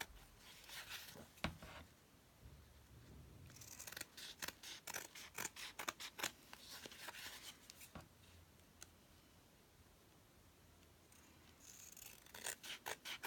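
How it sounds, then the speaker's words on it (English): Scissors trimming cardstock for a small handmade vintage-style photo album, heard as close, quiet crisp snips and rasping cuts that come in short bursts with pauses between them. "I'm just laying my scissors right next to the cardstock and trimming it off as best I can."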